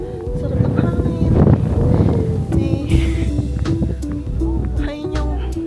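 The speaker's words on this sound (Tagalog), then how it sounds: "Mahangin. Sarap ng hangin." Gusty sea wind on the coast of Jeju buffets the microphone in low, rumbling surges, with people talking over it throughout.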